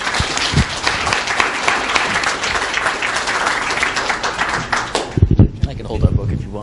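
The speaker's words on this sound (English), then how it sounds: "Let's give them a round of applause." A live-event crowd applauding two guests called up to the stage, dense clapping held steady for several seconds before thinning out into a few scattered claps and voices.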